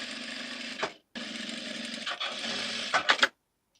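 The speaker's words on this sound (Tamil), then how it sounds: "அப்படியே ஃபோல்டு பண்ணிவிட்டு அப்படியே ஒரு தையல் போட்டுக்குங்க." Sewing machine stitching blouse fabric up close, running in steady whirring bursts that pause briefly and then restart, ending with a few quick clicks before it stops.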